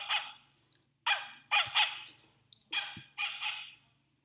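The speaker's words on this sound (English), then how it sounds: "It makes barking noise." A toy bear gives a run of short, bright electronic barks, about seven yaps in quick bursts with brief pauses between them.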